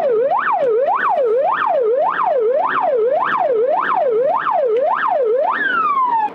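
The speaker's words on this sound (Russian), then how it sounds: "На сигналы спецмашины водители в пробке реагировали мгновенно." Ambulance siren wailing steadily in a traffic jam, a loud, close two-tone yelp cycling rapidly and evenly before shifting into a long descending wail at the end.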